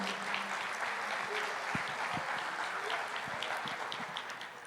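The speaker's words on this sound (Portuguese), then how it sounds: "pode aplaudir" A church congregation applauds during a Portuguese-language sermon, with steady, dense clapping filling the room. It fades slightly toward the end, with no one speaking over it.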